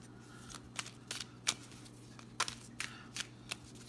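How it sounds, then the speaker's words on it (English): Quiet riffle-shuffling of Lenormand cards in several quick bursts, spaced irregularly over a steady low hum, with no talking. "I'm used to shuffling with the backs of the cards"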